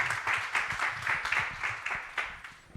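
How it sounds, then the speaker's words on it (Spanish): Audience applause for the speakers at a construction-themed talk, a steady wash of hand claps at moderate volume that starts full and tapers slightly toward the end. "os pido un fuerte aplauso para los ponentes del día de hoy"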